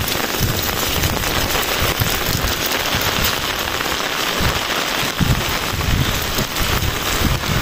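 Heavy, steady rain drums on the roof and panels of a garden greenhouse, a dense continuous patter filling the space without voices.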